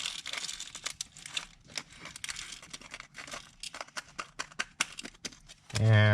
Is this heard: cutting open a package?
yes